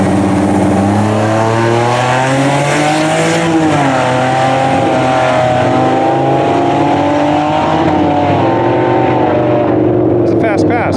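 A Mustang with a 3.7-litre turbocharged six-cylinder on big Hoosier slicks at a drag strip, its engine droning loud and steady as it accelerates down the track, with a voice talking over it.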